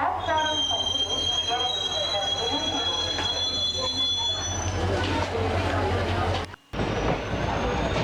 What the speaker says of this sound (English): Departing from cantonment, a very nice curve